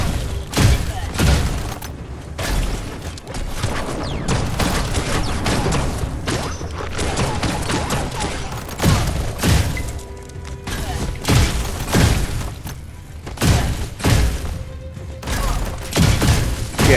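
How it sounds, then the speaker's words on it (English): Grenade blasts and gunfire in the action game Biomutant, a dense run of sharp booms, shattering hits and rapid shots packed close together across the whole stretch. The sound is loud and continuous, with a few stronger thumps standing out. "he threw a grenade. The fire is crazy."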